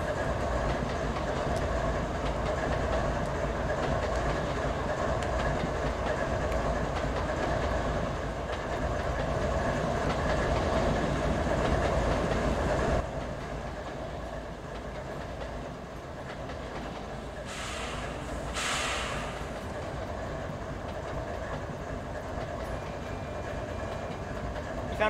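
A train rolls along its route in the Trainz railway simulator, a steady rumbling run with rhythmic clickety-clack of wheels on the rails, softening partway through, with no talking.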